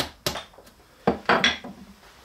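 Wooden mallet blows drive a wooden dowel through a metal dowel former die, making a few sharp, fairly close knocks with a woody clack and metallic ring, spaced irregularly with quiet gaps between.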